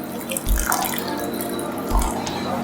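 Water poured into an egusi soup mixture of ground melon and chopped onion, a close splashing pour with two heavier gulps, alone without talk.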